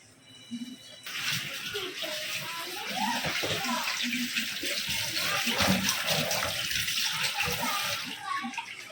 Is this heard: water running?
yes